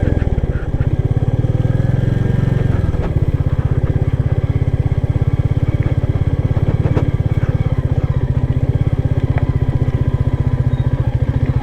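A Royal Enfield Meteor 350 motorcycle engine thrums steadily at close range, its rapid pulsing note rising briefly as the bike rides over rough ground.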